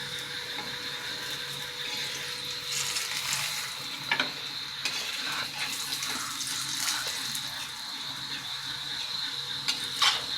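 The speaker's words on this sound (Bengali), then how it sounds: "লাল লাল করে একটু বাদামি জ্বালার মতন করে ভেজে নেবো এগুলোকে।" Mango paratha frying in hot oil in a pan: a continuous close hiss and sizzle with a few clinks and scrapes of a utensil, no voices over it.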